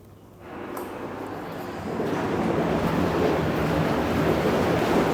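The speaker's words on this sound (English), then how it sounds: "With the jacuzzi, of course, there's a button for bubbles." A penthouse jacuzzi's bubble jets switch on, rising from near quiet into a loud, continuous rushing and churning hiss that swells further after a couple of seconds and holds steady to the end.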